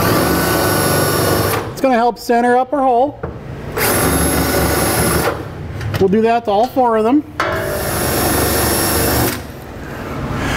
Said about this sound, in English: we're gonna use a half inch drill bit to mark out our holes